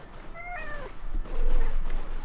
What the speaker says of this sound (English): Silly cat